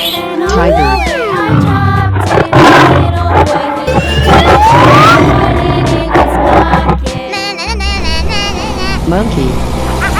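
A tiger roars in a 3D animal video game, caught in a dense, busy mix of game music, sweeping effects and a voice, with no quiet gaps around it.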